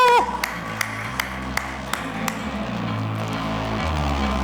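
An audience applauds to welcome actresses Rasika Dugal and Shweta Tripathi Sharma onto the stage at the Mirzapur Season 3 trailer launch, with scattered claps over loud stage music.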